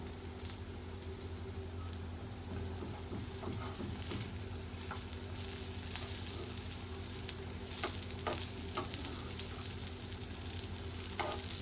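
Slices of brinjal and potato fry on a hot tawa over medium gas, giving a steady, close sizzle with scattered crackles and small pops throughout, with no talking.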